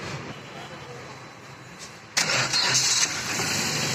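Maruti Ertiga car engine starting after a head overhaul, a quiet lead-in followed by a sudden crank and catch around the midpoint, then a loud, steady running engine close by.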